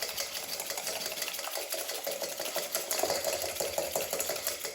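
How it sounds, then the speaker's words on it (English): A whisk beats pumpkin s'mores pie filling in a bowl, a fast, steady run of scraping clicks that carries evenly through the whole stretch with no talking. "we're just gonna give it a quick little whisk here before we go put it over heat"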